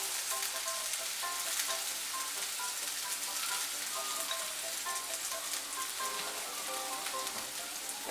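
Poppy seed paste sizzles in a frying pan while cooking a Bengali drumstick dish, sojne datar chorchori, making a steady, dense crackle that holds at an even level throughout with no voices.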